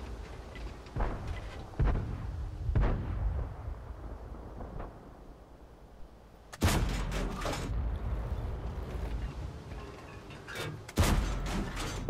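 Tank cannon fire in World of Tanks, AC 4 Experimental gameplay: a few loud booming shots with sharp onsets, including a strong blast near the middle and another late, over continuous engine rumble, no talk.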